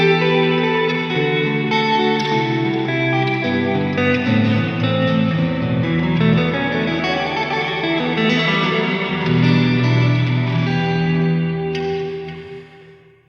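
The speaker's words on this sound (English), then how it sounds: "The reverb and the delays mask everything I'm playing." Electric guitar playing an ambient passage through delay and reverb pedals with both mix knobs turned high, so the notes smear into a dense, continuous wash of echoes and reverb tails that swamps the playing before fading out at the end.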